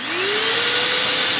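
A Snauzer HVLP turbine paint sprayer spraying polyacrylic, a loud, steady blowing roar whose whine rises in pitch as it spins up, heard alone.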